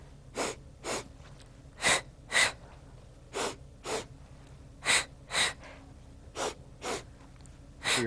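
Rhythmic breathing, sharp inhales and exhales in quick pairs during an abdominal stretch, close and fairly loud, about eight breaths over a quiet background.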